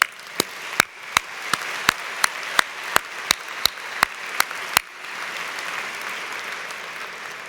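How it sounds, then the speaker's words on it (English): Applause at a college commencement ceremony begins as a string of evenly spaced single claps, then swells into a continuous wash of crowd clapping that holds steady to the end. "A round of applause for all."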